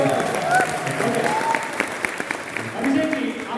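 An audience applauds at a live Hindi talk program, a dense, sustained wash of clapping that stays loud throughout, with voices and a few cheers mixed in.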